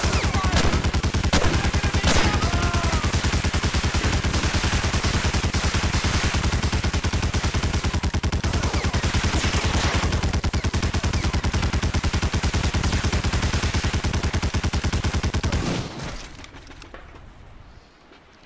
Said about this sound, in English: get onto this gun and shoot the guys